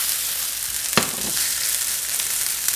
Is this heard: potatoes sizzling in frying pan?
yes